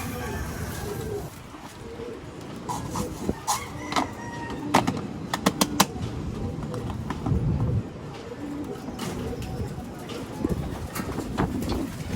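Pigeons coo softly amid a busy background of rustling and scattered clatter, with occasional short sharp knocks, fairly close.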